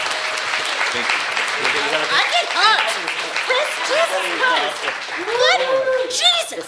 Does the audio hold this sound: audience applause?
yes